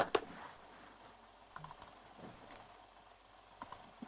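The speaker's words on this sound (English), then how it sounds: "Now again, I need to type a is blank function." Keys clicking on a computer keyboard while entering an ISBLANK formula into a Microsoft Excel spreadsheet, quiet isolated keystrokes coming in small bursts at the start, middle and end, with near-silence between them.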